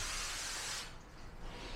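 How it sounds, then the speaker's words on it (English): A small pressurized sprayer hisses out diluted cleaner onto kitchen cabinets in one steady, close spray lasting under a second, then cuts off to quiet room noise. "put it in this little pressurized sprayer so that we can spray the cabinets and get them nice and clean"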